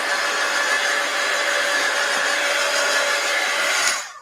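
A hair dryer blows steadily and loudly, drying fineline paint on a hand-painted Christmas tree envelope, a constant airy whine that runs without a break and cuts off near the end.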